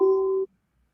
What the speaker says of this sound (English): Oh, it's ringing. We got a caller.